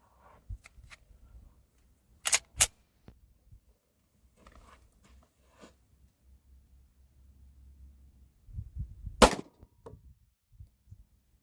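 Five Smith & Wesson M&P 9 2.0 Compact pistol shots fired at a 15-yard target, sharp loud cracks in two close pairs early and a single heavy report later, with quiet shuffling and faint movement in between.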